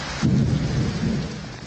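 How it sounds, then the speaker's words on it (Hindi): Heavy monsoon rain pouring down with a deep rumble of thunder rolling through, a steady dense hiss with a low swelling roar that fades slowly, no voices. "बादलों की गड़गड़ाहट के साथ जोरदार बारिश हुई"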